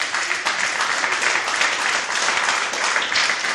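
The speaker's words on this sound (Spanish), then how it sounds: "Dele otro aplauso al Rey de Reyes." Church congregation applauding during a sermon, a steady, dense roar of many hands clapping that holds evenly for several seconds.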